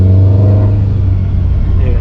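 A Subaru WRX STI with a Stage 2 tune revs close up, a loud, deep, steady engine rumble held for a couple of seconds with no talking over it.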